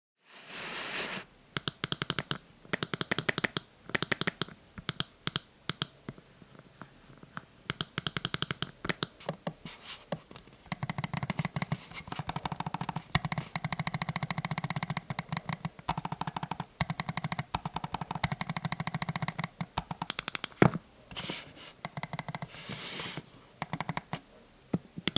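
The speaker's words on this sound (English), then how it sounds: "let's compare the MX Master 4 to my Magic Mouse in terms of clicking sound" Mouse button clicks from a Logitech MX Master 4 and an Apple Magic Mouse, heard as bursts of rapid, crisp clicking separated by short quiet pauses, then a long stretch of steady, softer repeated clicks, close and dry.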